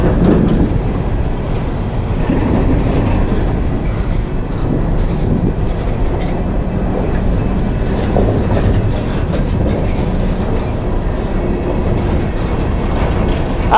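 A long coal train rolls past a rail crossing in Mount Hope, West Virginia, a loud, steady rumble of wheels and cars with high squealing and clanking, close and continuous.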